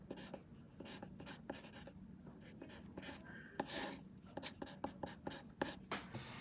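Marker or chalk scratches out math on a classroom board in short repeated strokes, close and fairly quiet, with a few faint words of talk mixed in.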